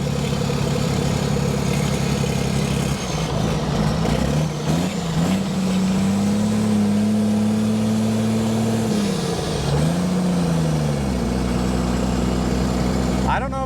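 A car engine runs unevenly during a drive, its low steady drone sagging and surging as it cuts out and catches again, with a rising and falling whine over the top. The rough running continues throughout, close and loud.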